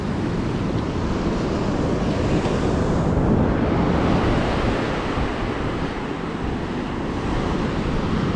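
Ocean waves break and wash steadily onto a long, featureless sandy beach with no rocks or headland, a continuous roaring surf mixed with wind buffeting the microphone throughout.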